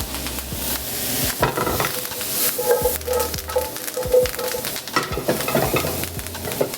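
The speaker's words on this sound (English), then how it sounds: "You'll hear it pop when we throw it in the pan." Fresh thyme sprigs dropped into a hot pan of butter, crackling and popping in a dense, continuous sizzle heard up close, with scattered sharper pops and occasional utensil scrapes on the pan.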